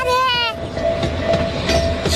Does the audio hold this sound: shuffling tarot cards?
no